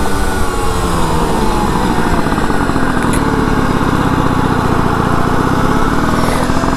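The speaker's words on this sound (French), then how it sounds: "on va me dire que le ralenti est quand même assez élevé" A 2004 moped engine held at a high idle, a loud, steady, buzzing drone that runs continuously without change in pitch.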